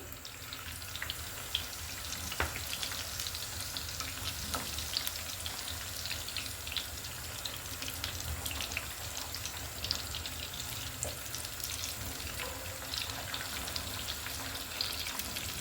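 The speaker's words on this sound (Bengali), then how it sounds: "কিন্তু দুই পিঠই ভালো করে ভেজে নিব" Pieces of katla fish sizzle in hot oil in a frying pan, a steady, even crackle that runs throughout with no voices.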